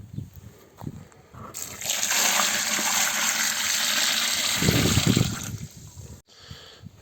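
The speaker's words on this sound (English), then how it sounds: "I'm pretty much adding enough water to have it all submerged pretty much" Water gushes loudly for a few seconds as it is poured into a container of food scraps for homemade organic fertilizer, then stops, with light handling sounds before and after.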